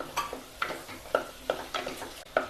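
Two large chopped tomatoes cooking in oil with chili powder, giving a soft sizzle broken by a series of crackling pops and stirring scrapes at irregular intervals, close and moderately loud.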